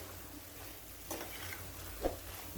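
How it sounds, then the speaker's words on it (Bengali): Okra frying in spice paste for a Bengali puti fish chorchori, a steady soft sizzle with occasional stirring scrapes and a brief clink near the end, close and moderately quiet with no talk. "এখন এই মশলার ভেতরে আমি ঢেঁড়সগুলো তিন চার মিনিট ভেজে নেব"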